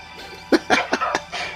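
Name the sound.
cough from a film soundtrack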